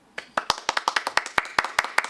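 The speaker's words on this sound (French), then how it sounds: "on peut applaudir également tous nos clients qui sont venus sur le salon" Visitors at the Made in France trade fair clap close by in a quick, fairly regular run of about a dozen sharp claps. The claps sound like a small group in a room, with no talk over them.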